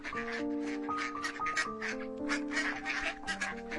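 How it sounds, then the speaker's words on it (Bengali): Cartoon ducklings give a string of rapid, repeated quacks over sustained tonal background sounds, moderately loud and continuous for several seconds. "সোনালি হাঁসের বাচ্চাগুলোকে ছেড়ে দেয় পোকামাকড় খাওয়ানোর জন্য"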